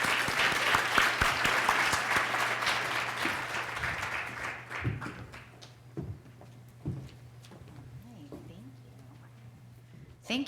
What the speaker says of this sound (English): Please give her a round of applause, Justine Fedak.